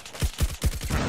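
KN-44 rifle fire in a video game, a rapid burst of about five sharp shots in even rhythm, loud and close with no voices.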